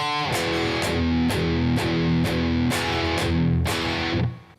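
Distorted electric guitar playing a palm-muted riff from a song, with chugging low notes broken by sharp accented strums about every half second, loud and alone, ending in a quick fade.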